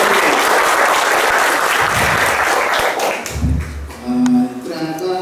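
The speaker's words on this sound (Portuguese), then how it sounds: "Então, mais uma vez, uma salva de palmas." Loud, dense applause from a church congregation, sustained for several seconds, then thinning into scattered claps and faint murmurs with some background music tones.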